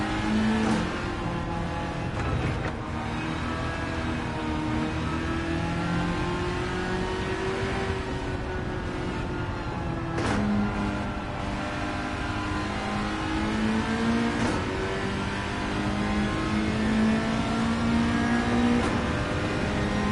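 A V8-swapped Mazda MX-5 ND in Gran Turismo 7 revs hard with a steady, buzzing engine note that climbs and dips as the throttle works, close and loud throughout with no talking.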